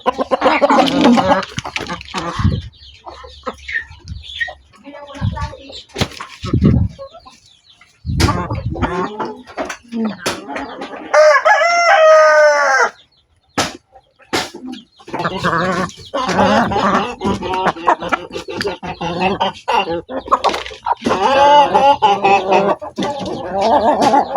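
Pet chickens clucking and squawking up close as they are fed corn mixed with rice, with loud, busy calls coming in repeated bursts.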